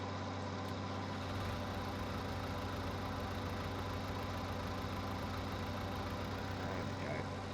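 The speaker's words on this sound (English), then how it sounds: "bring our tractor and trailer in and" Tractor engine in Farming Simulator 19 drones steadily at a constant idle-like pitch throughout, loud and continuous with a low hum, while a tractor and trailer are driven in a field during harvest.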